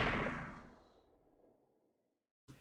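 One layer of a sniper rifle sound effect made from mouth sounds begins as a loud, bright burst that fades slowly into a long, dull tail, followed after a short silence by a brief, quieter hit.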